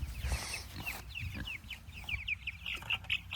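Pastured meat chickens being loaded into chicken tractors: a quiet, busy chorus of clucks and chirps, with repeated short calls close by and some light handling noise underneath.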